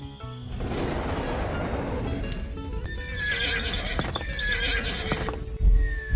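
A cartoon horse whinnies loudly and close, with hooves clip-clopping underneath and a brief thud near the end.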